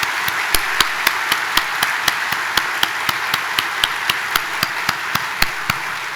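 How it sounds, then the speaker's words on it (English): A few people clap in a slow, regular rhythm at a college convocation ceremony, with sharp distinct claps under a broad wash of audience applause. "Can you please give them a round of applause?"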